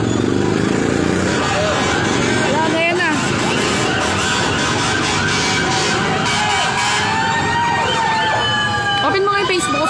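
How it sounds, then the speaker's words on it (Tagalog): Fire truck sirens wail and warble continuously at a building fire in Caloocan City, loud and close amid crowd noise and engine rumble, with people talking throughout. "Ayan na, may bumbero na."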